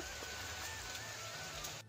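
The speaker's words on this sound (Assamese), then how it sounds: "এইফালে সাংঘাতিক বৰষুণ দিছে।" Heavy rain pours down in a wind-driven storm with hail, a dense, steady hiss that holds level throughout, with no voices present.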